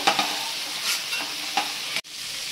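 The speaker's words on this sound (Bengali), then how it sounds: "এই তেলে এবার আমি চিংড়ি মাছগুলোকে ভেজে নেব।" Prawns frying in hot oil, a loud steady sizzle broken by scraping stirs of a utensil before it cuts off abruptly.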